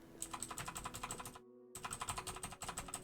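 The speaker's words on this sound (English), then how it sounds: "So that's my mechanical keyboard." Steady rapid clicking of a mechanical computer keyboard being typed on, quiet and close, with a brief pause midway before the keystrokes resume, no voices.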